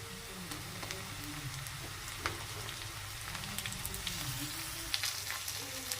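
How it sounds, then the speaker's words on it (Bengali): Chopped onions and diced green tomato fry in a pan for an egg dish, a steady close sizzle with occasional clicks and scrapes of stirring throughout. "পেঁয়াজ কুচিগুলো হালকা ভাজা ভাজা হয়ে এসেছে এবার এর মধ্যে দিয়ে দেবো কাঁচা টমেটো কুচুনো"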